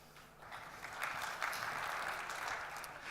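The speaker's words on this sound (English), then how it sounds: "Round of applause." Brief, fairly faint applause from a keynote audience, a soft wash of clapping that swells after a moment and holds steady for a few seconds.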